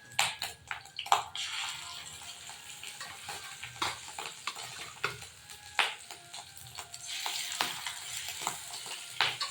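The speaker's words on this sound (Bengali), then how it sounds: "খুব ছিটাচ্ছে, তাই একটু ঢেকে দেবো হালকা করে।" Fish roe fritters spit and crackle in hot oil in a home kitchen, a steady close sizzle broken by frequent sharp pops and splatters throughout.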